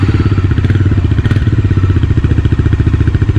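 A Bajaj single-cylinder, liquid-cooled, fuel-injected motorcycle engine runs close and loud through a twin-canister silencer, giving a steady, rapid, throbbing exhaust pulse with no talking.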